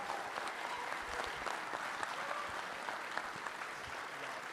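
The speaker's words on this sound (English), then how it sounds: "one last round of applause for Governor Holcomb" An audience at a university business innovation event applauds Governor Holcomb, a steady, even round of clapping at moderate distance that runs throughout without speech.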